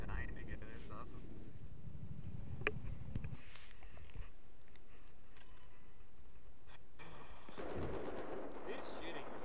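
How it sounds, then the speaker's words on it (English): Battlefield 4 gameplay with bursts of automatic gunfire and sharp shots, loud and clustered at the start and again near the end, with people talking throughout. "Who's shooting?"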